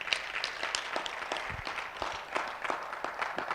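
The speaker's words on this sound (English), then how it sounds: "So a big applause to Professor." An academic audience applauds a professor after an online lecture on African environmental law, a moderate patter of scattered claps continuing throughout, heard fairly faintly with some background noise.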